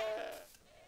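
A goat bleats in the video game Minecraft, one short wavering call that is loud at the start and then fades over about a second, heard on its own without talk.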